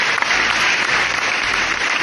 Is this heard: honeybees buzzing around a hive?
no